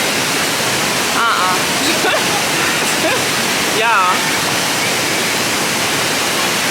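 A waterfall rushes as a constant, loud, broad roar throughout, with a few brief voices and a short spoken word over it.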